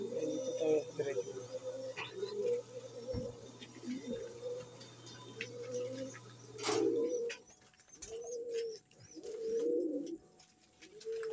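Pigeons cooing at a night feed, a string of soft, rounded coos repeating in an uneven rhythm close by, with faint chirps and background voices speaking now and then.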